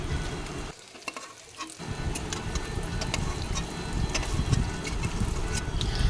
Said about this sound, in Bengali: দেখো এবার উল্টে পাল্টে পনিরগুলোকে ভেজে তারপরে নামিয়ে নেব।